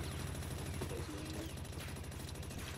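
Rapid automatic gunfire in the video game Palworld hammers at a turret, a dense continuous burst of shots held at steady loudness for the whole stretch, with no talking.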